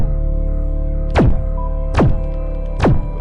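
Three evenly spaced weapon shots in the video game Space Rift, each a heavy punchy thunk with a falling tail, over a steady electronic hum.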